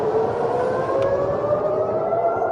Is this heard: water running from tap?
no